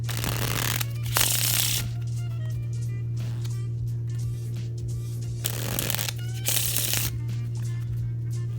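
Brand-new deck of Parlour playing cards being broken in: repeated riffle shuffles and bridge cascades, brisk fluttering bursts between quieter handling, close and clear over a steady low hum, with no talking.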